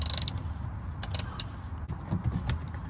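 Plastic fasteners under the underbody of a 2023 Toyota RAV4 LE AWD being twisted open by hand, giving soft close creaks and a few sharp clicks, faint and without talk.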